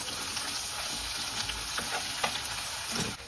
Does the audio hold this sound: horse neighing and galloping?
no